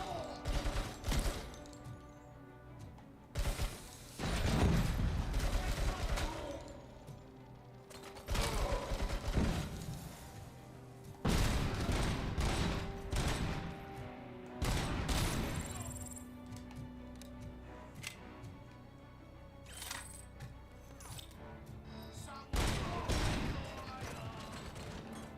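Video game gunfire crackles in several sharp, loud bursts separated by quieter stretches with mechanical clatter and rattling in between.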